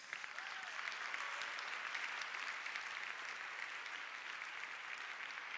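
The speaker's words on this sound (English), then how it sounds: "let's give another round of applause." A TEDx audience applauds in a dense, steady wash of clapping that holds at an even level for the full stretch, slightly distant and with no voices on top.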